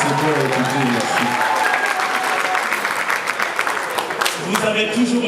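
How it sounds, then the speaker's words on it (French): Loud, sustained applause from guests at a family celebration marking an 85th birthday and 60th wedding anniversary, with voices and cheers mixed into the clapping throughout. "On applaudit très fort"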